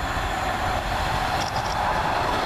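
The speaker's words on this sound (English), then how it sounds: "Now coming southbound is a Transpennine service to Manchy Airport." A TransPennine passenger train runs through the station heading southbound toward Manchester Airport, a loud, close rush of wheels and rail rumble with a brief high squeal partway through.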